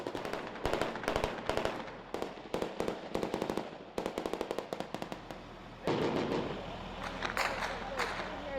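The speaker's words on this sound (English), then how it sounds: "Now there's more incoming fire." Rapid volleys of sharp incoming gunshot cracks in Mosul, some in quick bursts, continue throughout with brief pauses and a rumbling blast near the end.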